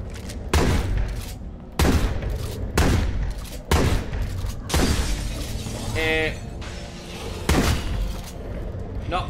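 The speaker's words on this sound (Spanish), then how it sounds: "¿Y si le meto disparos?" Gunfire in the zombie survival game State of Decay 2 fires in loud, sharp bursts about every second, with booming, shattering impacts between them and a voice faintly underneath.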